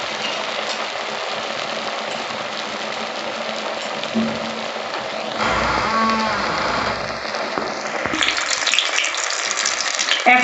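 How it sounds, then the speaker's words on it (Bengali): Chhana (cottage cheese) pieces fry in hot oil in a wok over low flame, a steady bubbling sizzle throughout that swells louder toward the end, close by and alone. "এবার আমি একটা একটা করে ভেজে নেব।"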